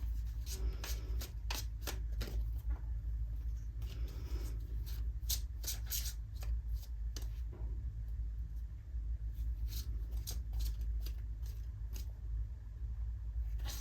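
Tarot cards are shuffled continuously with soft papery flicks and taps, close by, over a steady low rumble like a running vehicle, with no one speaking.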